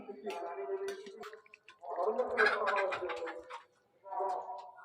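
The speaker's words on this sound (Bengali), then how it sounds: "ওইদিকে মুরগি মারামারি লাগাই দিছে।" Chickens squabble near a home kitchen, giving rough, throaty clucking and squawking in two bursts that sound close and moderately loud, with some voices mixed in.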